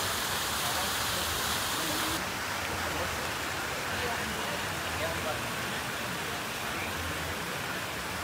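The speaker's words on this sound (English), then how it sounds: "I don't get to see too many water fountains." A water fountain at a LEGO convention splashes in a steady, dense hiss of falling water, close and continuous, with people talking faintly beneath it.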